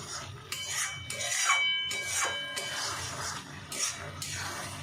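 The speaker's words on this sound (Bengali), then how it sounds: "মাছটা আবারও একবার নেড়ে নিচ্ছি।" A spoon scrapes and stirs lote fish curry in a pan, several rhythmic rasping strokes at close range.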